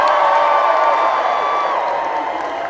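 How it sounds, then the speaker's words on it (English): A large crowd gathered outside a front gate cheers and whoops loudly and continuously, a dense wall of voices that eases slightly toward the end. "the crowd cheers"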